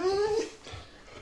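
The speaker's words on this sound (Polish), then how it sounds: "Nie szczekaj na mnie." Dog whining in a high, gliding tone for about half a second, then a couple of faint, softer yelps; close and fairly quiet indoors.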